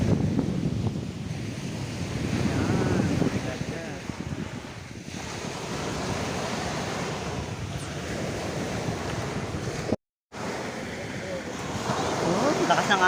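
Strong ocean waves crash and roll onto San Antonio beach in Zambales, a loud continuous surf roar with heavy wind buffeting the microphone and brief voices under it.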